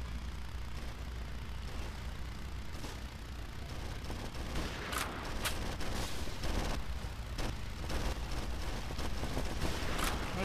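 Gunfire in the vehicle combat game Hard Truck Apocalypse, several sharp shots and bursts cracking over a constant low engine rumble, with a couple of louder impacts near the middle and end.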